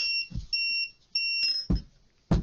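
A timer gives several short high electronic beeps in a broken pattern, clear and close, with a few soft thuds between them in an otherwise quiet room.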